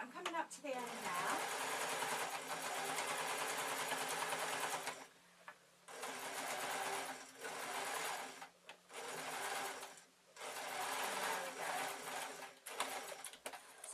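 A sewing machine stitching a flowing shirt, running in three long bursts of rapid, steady whirring with short pauses between, close and loud, with no talk over it.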